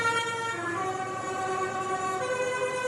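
Trucks on the street blare horns and siren-like tones during an independence celebration in Dominica, steady layered tooting that holds loud and continuous throughout.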